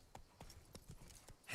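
Horse hooves clip-clopping in the video game Witcher 3, a series of about seven distinct, evenly paced hoofbeats, quiet and close, with no talk over them.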